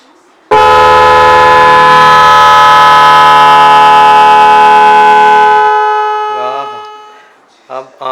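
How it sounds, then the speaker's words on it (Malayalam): Multi-tone vehicle air horn with a 21-sound pattern, wired and triggered by touching a cable to the negative terminal, blaring loud and sustained for about five seconds before fading and warbling off, with brief bursts at the end. "ഈ ഒരു കേബിള് നമ്മൾ നെഗറ്റീവിൽ ടച്ച് ചെയ്ത് കഴിഞ്ഞാൽ ഹോൺ വർക്ക് ചെയ്യും"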